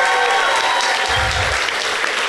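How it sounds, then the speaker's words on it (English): Applause from the audience at Gateway City Arts, an arts venue in Holyoke, during an evening event with the mayor. It is a steady, dense wash of many hands clapping together, loud and close throughout. "Again, round of applause for Gateway City Arts."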